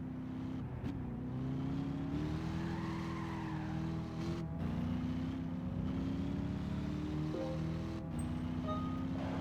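A Camaro race car in Gran Turismo 5 holds a steady engine drone while its tires screech in long skids through corners, with shifts in pitch as it accelerates, and the sound stays continuous and close.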